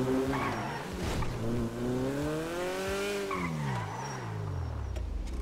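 A car in Grand Theft Auto 5 driven hard, its engine droning at a steady high pitch that rises and falls throughout, with squealing tires skidding under it; loud and continuous, no talking.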